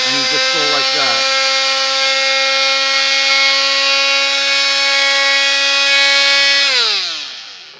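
An oscillating multi-tool fitted with coarse 60-grit sandpaper runs steadily on a knife blade, a loud, sustained buzzing drone with a brief wavering start-up, then winds down near the end.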